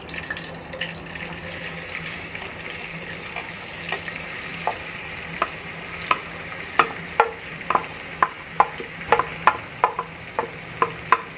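Chopped onions added to hot oil in a karahi for beef keema, frying with a steady sizzle while a spoon stirs and scrapes the pan in sharp, quickening knocks, with no talk.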